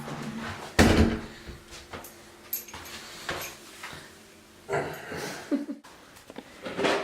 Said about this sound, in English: I'm taking the door off.